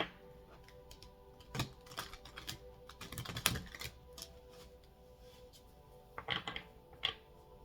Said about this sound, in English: Last shuffle here before we cut the deck.